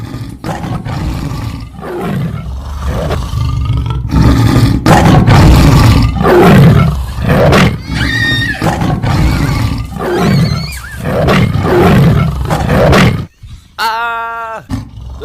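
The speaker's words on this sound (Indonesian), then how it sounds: "Tolong, ada macan." A tiger roars loudly and repeatedly in close, drawn-out bursts with short gaps between them, ending in a harsher, rasping growl.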